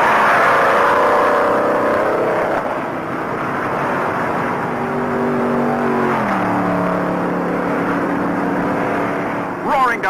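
Stock cars at the 1960 Daytona 500 roar around the banked track, loud engine drones rising and falling in pitch as the pack passes, under a race announcer's commentary.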